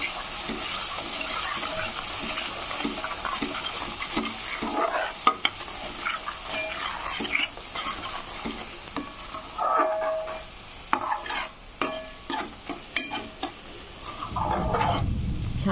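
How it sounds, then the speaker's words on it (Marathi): Masala sizzles and fries in a pan while a spoon stirs it in irregular scraping strokes, close and moderately loud, for egg curry. "याला पण फ्राय करून घ्यायचं आहे."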